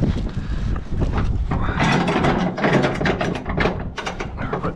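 Ratchet strap being tightened over a load on a flatbed truck, a rapid series of clicking ratchet strokes, close and loud, in repeated bursts.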